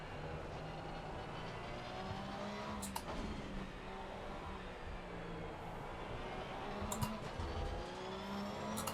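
A Porsche race car in Assetto Corsa Competizione at Silverstone, its engine a steady mid-level drone with shifting pitch as it accelerates and changes gear, heard alone.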